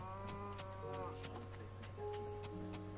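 A Minecraft cow moos twice, each call a low, drawn-out bellow lasting about a second, close and clear over faint background sounds with a steady low hum.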